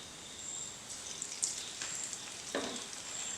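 Urad dal vada dough dropped into hot oil fries with a soft, steady sizzle and faint bubbling crackles, quiet and close with no talking.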